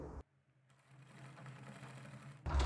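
A sewing machine stitches a kurti with buckram backing, running in a steady mechanical whir close by after a brief pause, with no talk over it.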